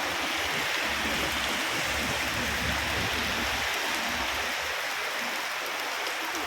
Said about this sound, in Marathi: एकदम जोराचा पाऊस चालू आहे